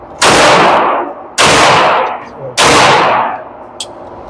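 Three loud, close gunshots from a .45 ACP 1911 pistol at an outdoor shooting range, each a sharp crack with a long ringing decay, spaced about a second apart.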